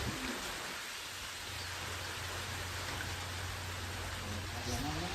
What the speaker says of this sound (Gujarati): ફાઇનલી ગાઈસ વરસાદ આવી ગયો